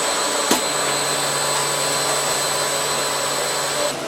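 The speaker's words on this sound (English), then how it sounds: "This is the vacuum test." A vacuum test machine inspecting a ceramic sanitaryware piece in a Laufen factory, giving a loud, steady roaring suction with a high whine, opening with a brief sharp click and holding constant throughout.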